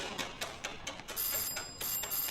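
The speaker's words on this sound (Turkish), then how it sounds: "Bu saatte kapı çalınır mı böyle?" A doorbell rings late at night, a rapid, insistent ringing pulsing repeatedly without pause, fairly close and clear.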